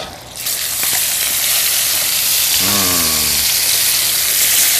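Olive oil and butter sizzling in a hot pan, a loud steady frying hiss that holds from start to finish with a brief bubbling burst near the middle.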